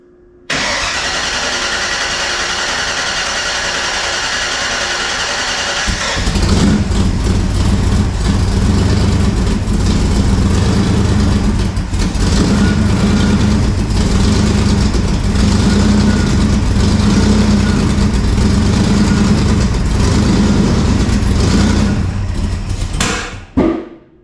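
A Cobra replica car's engine cranks for several seconds, then catches and runs loud and rough, idling unevenly with a throaty rumble before cutting off abruptly.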